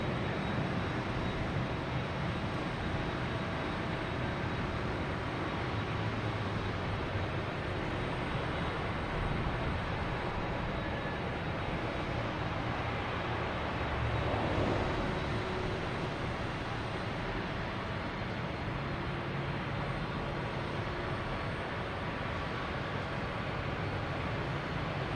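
A PAL Airlines airplane from Halifax arrives at Boston Logan Airport at night: a steady, distant jet roar fills the whole stretch, swelling slightly partway through before settling back to a continuous drone.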